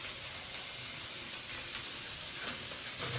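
Vegetables including capsicum, seasoned with salt and sugar, fry and sizzle steadily in a pan for fried rice, a continuous crackling hiss with faint stirring scrapes and no talk.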